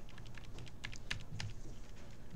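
Typing on a computer keyboard while entering an IP address in a terminal, a quick run of close, light key clicks with a few sharper taps, heard alone.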